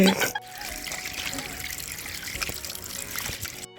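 Star fruit being rinsed under running water, a steady trickle and splash close by for the whole stretch, with a sharper burst of water at the very start.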